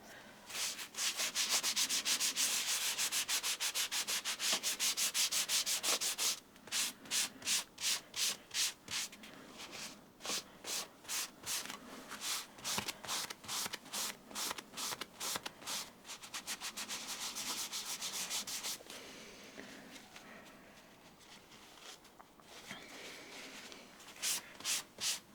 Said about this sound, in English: Just going to get a nice thin layer of paste wax.